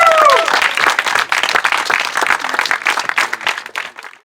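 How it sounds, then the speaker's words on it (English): Applause and clapping from a crowd greeting finishers of the Montane Summer Spine Race, a dense steady patter that holds for about four seconds before fading out abruptly. "So a big round of applause for that."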